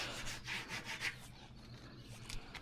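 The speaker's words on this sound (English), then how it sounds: "I'm gonna just rub it off a little bit with my gloves" Gloved hands rub spilled lube off a tire in quick, repeated scrubbing strokes, a close, soft, raspy friction sound with no talk.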